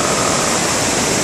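The Sumiyoshi River runs as a torrent swollen by heavy typhoon rain, giving a loud, dense, unbroken roar of rushing water heard close by with no voices.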